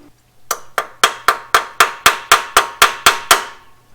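About a dozen sharp metallic hammer strikes on a 1977 Dodge Monaco's 360 engine in a steady rhythm, each ringing briefly, close and loud, with no voices.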